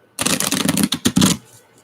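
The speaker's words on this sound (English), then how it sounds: "I'm going to shuffle the cards" A deck of cards being shuffled up close, a dense riffling burst of about a second followed by a few quick flicks and taps, with no voices.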